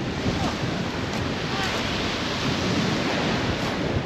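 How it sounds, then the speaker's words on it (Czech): Rough sea waves wash steadily on a windy shore at Brač, Croatia, a continuous loud surf roar with wind buffeting the microphone throughout. "Ale dneska jsou vlny"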